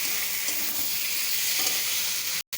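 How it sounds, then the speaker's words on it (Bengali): A spice paste of ground tomato, chili and ginger with turmeric, coriander and cumin powder sizzles steadily in a hot pan. The close, continuous frying hiss cuts out for a moment just before the end. "মশলাটা দিয়ে দিলাম, এখন কষাবো।"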